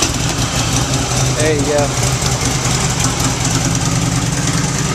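A 2006 Harley-Davidson Ultra Classic motorcycle engine runs at a steady, loud idle with a deep, throbbing low rumble throughout, close by, with a voice briefly over it.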